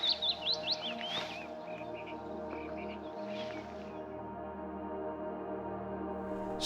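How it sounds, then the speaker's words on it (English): Bright, quick bird chirps and trills ring out at the start, then sparser calls continue over a steady low outdoor hum, on the coast of Norway in spring. "it's lovely to just to hear the birds."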